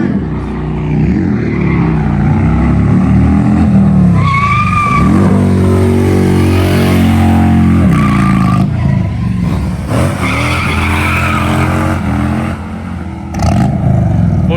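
A 2018 Harley Davidson Street Glide doing a tire-shredding burnout, the engine roaring loud and near with rising and falling revs over a continuous screeching, squealing tire, with brief faint voices in the background.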